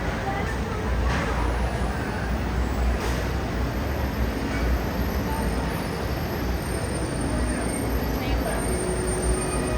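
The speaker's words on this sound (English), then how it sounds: "is that the train?" A Disney World monorail train runs steadily at a resort, giving a continuous rumbling roar with faint wheel squeal that holds level throughout.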